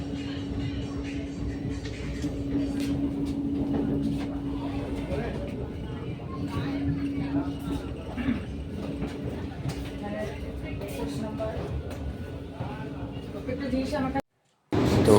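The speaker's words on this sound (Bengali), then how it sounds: "আমাদের ট্রেনের সাথে ক্রসিং হচ্ছে একটি ট্রেনের, আর এটা হচ্ছে এলএসবি ট্রেন" Two trains pass each other on the line, an LSB train crossing the Vande Bharat sleeper: a steady rumbling rush of wheels and carriages with a sustained low hum, loud and continuous, ending abruptly.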